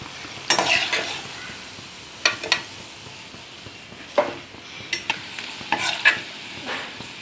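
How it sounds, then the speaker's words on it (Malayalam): Cauliflower (gobi) pieces refried in hot oil until crispy, giving a soft continuous sizzle broken by several sharp scraping stirs of a spatula in the pan. "ഒരു ക്രിസ്പി കിട്ടാൻ വേണ്ടി ഇത് നമ്മൾ പൊരിച്ച് വെച്ചിട്ട് വീണ്ടും ഒന്നും കൂടെ ഇതിനകത്ത് ഫ്രൈ ചെയ്യും"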